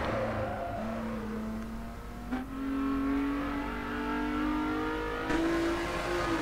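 A Lotus sports car engine in the racing game Test Drive Unlimited 2, revving and climbing steadily through gears with a couple of brief shifts, a loud, close mechanical drone with no talk over it.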